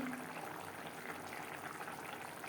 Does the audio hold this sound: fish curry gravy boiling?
yes